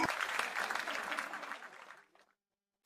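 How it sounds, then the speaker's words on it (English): Crew members aboard a naval vessel rise and applaud their commander, a fairly quiet burst of clapping that fades out over about two seconds into silence. "the crew members rise to their feet and break into applause"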